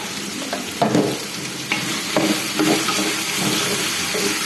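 Chopped onion fries in a pan as a soup base, a steady close sizzle broken by the scrape and clatter of stirring, with no talk.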